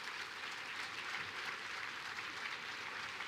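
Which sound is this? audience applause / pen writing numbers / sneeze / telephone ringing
audience applause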